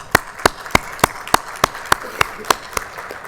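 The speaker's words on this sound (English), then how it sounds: "Round of applause for our sponsors." Slow, evenly spaced claps ring out at a conference opening as sponsors are thanked, sounding like a single person or a few people clapping about three times per second over a quiet room.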